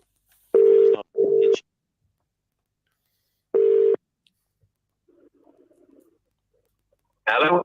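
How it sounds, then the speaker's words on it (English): A telephone ringback tone purrs through an earpiece, two quick bursts, then a pause, then another single burst, with faint background murmur between. "Oh, it's ringing."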